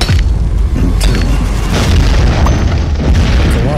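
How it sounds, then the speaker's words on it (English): A colossal mine explosion in the mobile game Miner Escape: Puzzle Adventure booms loudly with a deep sustained roar and rumbling debris throughout, close and overpowering with no pauses. "a colossal explosion shattered the calm."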